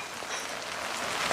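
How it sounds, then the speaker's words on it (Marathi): Rain falls in a brief, even patter on surfaces, a soft, steady hiss of drops with no voices. "पावसाला आत्ताच यायचं होतं"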